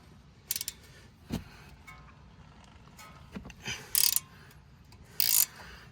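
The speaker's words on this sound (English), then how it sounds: "We're going to start by releasing the top of this stabilizer bar link. Okay, so this takes a 15 mil." Ratchet wrench with a 15 mm socket loosening the top nut of a stabilizer bar link on a 2015 Chrysler 200C: short bursts of ratcheting clicks and metallic knocks, spaced apart and close, fairly quiet overall with no talk.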